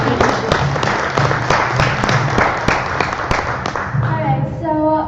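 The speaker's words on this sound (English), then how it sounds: "let's clap it up for Dr." An audience at a San Diego town hall event applauds in a dense, loud wash of clapping with sharp individual claps standing out; the applause thins near the end as a voice begins speaking.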